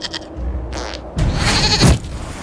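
Goat bleats in a video game: a couple of wavering, nasal calls stand out over a low rumbling game ambience, the louder bleat coming late, with no talk.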